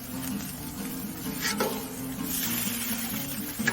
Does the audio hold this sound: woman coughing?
no